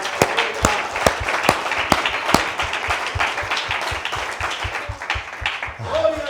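Church congregation applauding during a sermon, a mix of scattered and overlapping hand claps with some sharp individual claps, voices murmuring and cheering underneath near the end.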